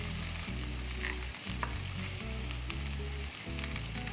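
Garlic and coriander sizzle steadily in a hot pan while being stirred, with a continuous close frying crackle and no talk over it.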